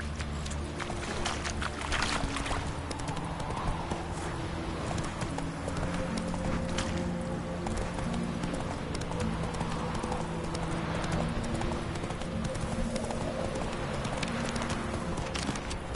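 Horse hooves clip-clop steadily through a long stretch in The Witcher 3 as the horse Roach is ridden, a continuous rhythmic trot or gallop with faint snorts and ambient game sound behind it.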